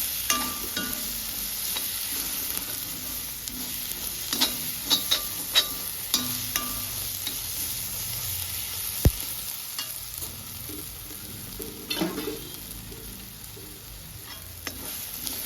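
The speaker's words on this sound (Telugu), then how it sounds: "పసుపు ఒక పావు టీ స్పూను బాగా ఫ్రై చేసుకోవాలి" Turmeric sizzles in hot oil in a pan while being stirred for a fish curry, with a steady close frying hiss and occasional scraping clinks of a spoon.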